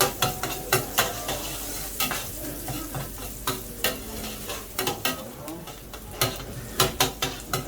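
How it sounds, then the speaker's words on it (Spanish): Chopped garlic sautéing in a paella pan, stirred with repeated scraping strokes against the pan over a steady close sizzle, with short bursts every second or so. "Y enseguida voy a hacer ajo picado. Empezamos a sofreír."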